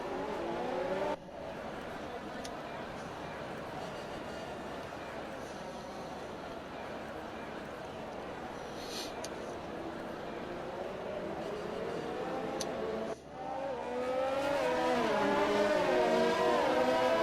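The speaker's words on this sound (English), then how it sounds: "we're going to be starting the formation lap very slowly" F1 cars in a racing video game rolling off on the formation lap at the Canada circuit, a steady engine drone with rising whining revs near the end, under a commentator's voice.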